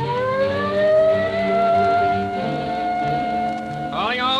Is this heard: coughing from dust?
no